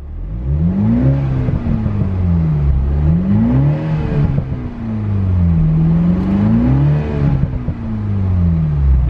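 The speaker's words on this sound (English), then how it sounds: "you can just hear a bit of like that blow-off sort of turbo sound, which is so glorious" A 2021 Toyota Supra in sport mode sounds loud and close as the engine revs rise and fall in repeated waves, with a whooshing turbo character between pulls and no voices.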